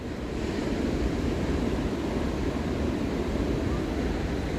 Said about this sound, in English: Look at the waves. It's huge waves.